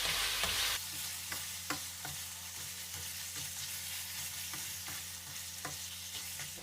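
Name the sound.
stirring seasoned beef curry in a pot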